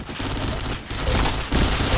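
Rapid bursts of automatic gunfire from a video game, dense and continuous with a brief gap near the start of the second and louder volleys toward the end.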